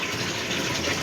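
Water pours steadily into a cooking pan for a mustard, poppy seed and cashew okra dish, a continuous close gushing splash for about a second.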